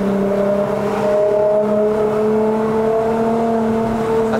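Remapped Lexus IS250 XE20 on a mountain run in Malaysia, its engine droning loudly from inside the cabin with clear rising harmonic tones as revs climb steadily while driving, no talk.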